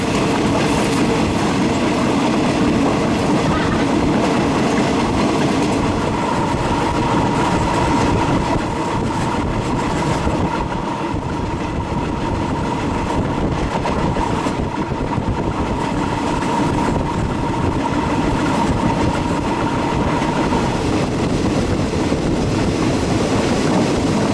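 A passenger train travelling between Pattaya and Bangkok rolls along the rails, a loud continuous rumble and rattle with clattering wheels heard from inside the carriage throughout.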